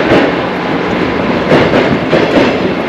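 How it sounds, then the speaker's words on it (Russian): A suburban electric train passes by on a street in Lazarevskoye, Sochi, producing a steady loud rumble with faint rhythmic clatter swelling at intervals throughout. "Сзади электричка проезжает."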